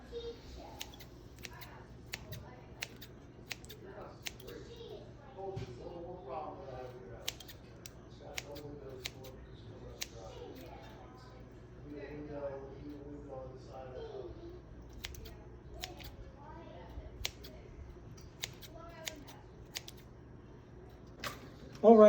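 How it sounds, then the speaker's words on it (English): Scissors snip through fresh clams in a kitchen, a run of quiet, crisp cuts with soft wet squishing, heard close over a low background hum. "I'm going to cut up the clams, and this is a trick I use now, using scissors instead of a knife."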